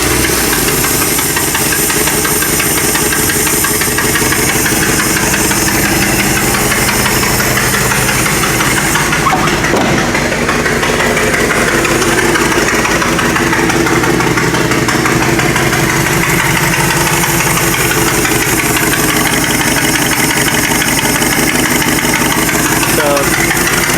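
A Dodge 360 engine idles with a freshly rebuilt carburetor and a large exhaust pipe hole, giving a loud, steady rumble with a ticking, knocking pulse that runs continuously near the mic.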